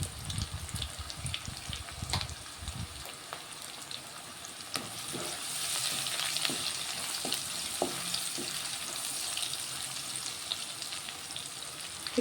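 Cumin, mustard seeds, dried chillies and asafoetida sizzle in hot oil for a masala cucumber curry, giving a steady, moderate hiss with scattered crackles and pops after some brief handling noise at the start.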